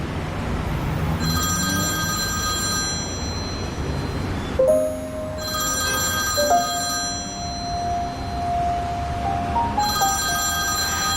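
A telephone rings in repeated electronic bursts, three separate ring sequences with short gaps between them, sounding clearly over a low background and a brief rising tone in the middle.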